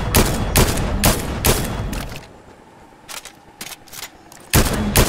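Gunshots in a video game ring out in rapid loud bursts, several shots in quick succession, then a quieter pause with a few scattered shots before another heavy burst at the end.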